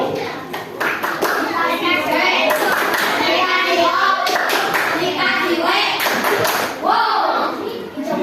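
Children clap a rhythmic classroom chant at an Indonesian primary school, bursts of hand claps mixed with kids' voices calling out, fairly loud and continuous throughout.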